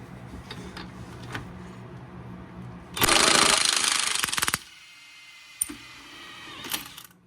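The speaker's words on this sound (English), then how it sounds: "we're gonna remove this outer lower control arm bolt" An impact tool removing the outer lower control arm bolt on a 2022 Lexus IS 350 RWD, a loud rattling hammering burst lasting about a second and a half, set between quieter clicks and clanks of nearby handling.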